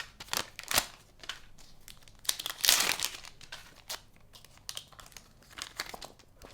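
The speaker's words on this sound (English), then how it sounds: "I just take off the paper wrapping." Paper wrapping is peeled off an AirPods Max case, making close, irregular crinkling and tearing rustles in quick bursts, with one louder ripping stretch midway.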